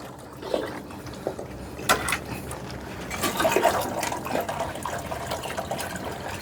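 Water runs and splashes in a household setting, with uneven gushes and spatters rising and falling over several seconds, close and moderately loud.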